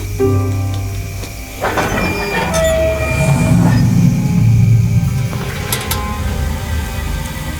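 Steam machinery in The Long Dark video game, a loud, continuous mechanical rumble and hiss with metallic squeals and tonal whines rising and fading over several seconds, with no talk.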